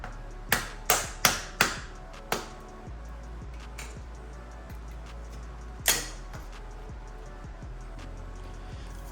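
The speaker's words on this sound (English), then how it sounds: "I'm just gonna get a flathead on it with a little hammer, tap it a few times" Five quick metallic taps in a row, a pause, then a couple more isolated knocks, a small hammer striking a flathead screwdriver against plastic on a 2022+ Subaru WRX, close by.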